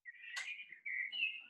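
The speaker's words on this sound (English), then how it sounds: "Some very lively birds there in the background." A lively songbird outdoors whistles and chirps in clear, close calls with a short pause between phrases, heard alone without talk.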